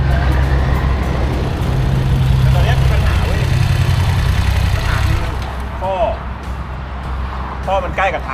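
A BMW F900GS motorcycle engine runs close by, a steady mid-pitched drone that settles lower partway through, with a voice talking over it.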